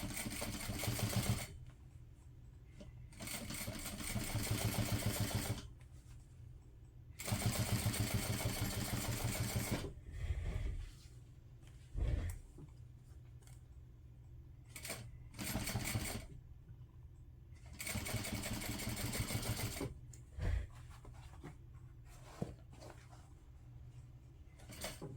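A sewing machine stitches a large Apothecary tote bag, running in loud bursts of rapid mechanical whirring separated by quiet pauses and small clicks, nearby and without talk.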